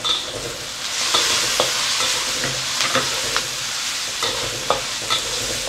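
Dried shrimp hits a hot frying pan and is stirred, producing a steady loud sizzle with scattered scraping clicks of the spatula, close up and with no talking.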